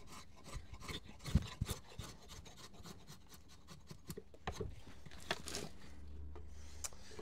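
A carving tool smooths and evens out a rough-carved wooden spoon, giving quiet, close rubbing and shaving strokes in an irregular rhythm with a few sharper scrapes and a low hum near the end.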